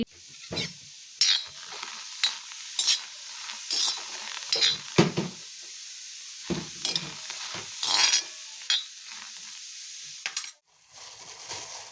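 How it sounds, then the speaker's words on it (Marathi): Vegetables roasting and being stirred on a hot griddle pan (tava) in a home kitchen, with spatula scrapes and clinks against the metal over a light sizzle, coming in short bursts with quiet gaps between them. "भाकरी करून त्याच तव्यामध्ये मी भाजी थोडीशी भाजून घेते"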